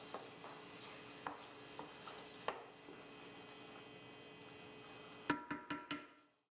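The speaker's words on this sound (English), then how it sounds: "Stir the Kalamata olives to combine." Kalamata olives being stirred into simmering tomatoes in a pan, a soft steady bubbling hiss broken by a few spoon knocks, then a quick run of sharp taps against the pot before it fades out.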